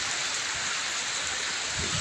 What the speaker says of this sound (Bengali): কীভাবে বৃষ্টি হচ্ছে।